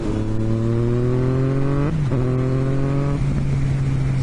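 A Yamaha XSR900 motorcycle engine drones steadily at close range while ridden on twisty roads, then briefly drops in pitch as the rider downshifts into fourth gear and climbs again under acceleration, with wind noise throughout.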